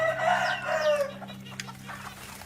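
A rooster crows once, a rising then falling call close by inside a large chicken coop, followed by quieter clucking and rustling.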